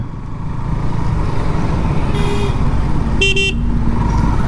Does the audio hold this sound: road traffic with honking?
yes